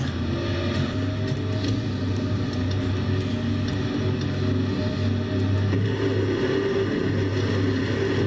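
A failing racing truck engine drones steadily in a video game race at Bristol, a low harmonic hum with a rough, sputtering edge, loud and continuous with no voices.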